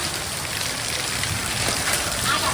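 Steady rain and hail patter on clay roof tiles during a thunderstorm, a dense continuous hiss close by with no clear single impacts standing out.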